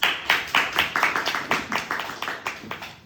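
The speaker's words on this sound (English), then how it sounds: "In your round of applause, let's have our counter on the stage." A small audience at a Toastmasters club meeting claps to welcome a speaker, with a thin run of distinct, evenly spaced handclaps from just a few people, fairly close and fading slightly toward the end.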